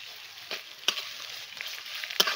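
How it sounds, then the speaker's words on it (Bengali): Onion with ginger and garlic paste stir-fries in hot oil, a soft continuous sizzle close by with a few sharp scrapes of a spatula against the pan. "আদা আর রসুন দিয়ে আরও 1-2 মিনিট নাড়াচাড়া করে নিলাম।"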